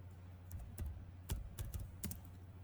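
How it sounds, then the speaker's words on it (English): Keys clatter on a computer keyboard as a word is typed, quiet irregular clicks in a short burst, close and alone with no talking. "Then we are going to type payroll"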